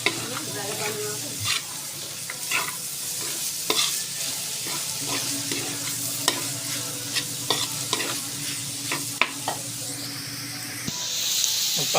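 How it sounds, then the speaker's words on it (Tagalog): Vegetables for pancit sautéing in a pan, with a steady close sizzle and frequent scraping stir strokes, ending in a brief hissing burst; no talking. "dinigisa ko na yung mga gulay ng pansit"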